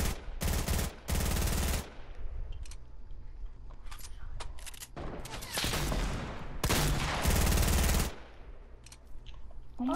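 Loud bursts of automatic gunfire in Fortnite, several sustained volleys separated by quieter gaps with scattered single shots, while a player talks between them.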